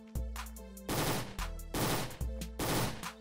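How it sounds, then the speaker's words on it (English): SMG gunfire in the Roblox Fortnite Island Royale game comes in several short, rapid bursts, loud and close, separated by brief pauses. "I hear an SMG really close."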